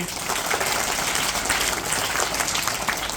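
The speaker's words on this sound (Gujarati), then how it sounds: "સરસ તાળીઓ તાળીઓ પાડો" Schoolchildren at a primary school quiz competition applaud a correct answer, producing a dense, steady burst of clapping that holds evenly throughout.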